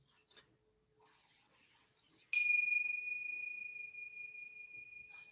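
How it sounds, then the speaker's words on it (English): A meditation bell is struck once, giving a clear bright ring with two steady tones that slowly decay over about three seconds in a quiet room. "I will ring the bell again"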